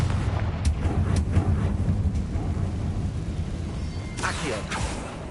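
A Confringo fire-spell blast in the video game Hogwarts Legacy, a low rumbling boom that rolls on beneath a few sharp cracks, fairly loud, with a brighter burst near the end.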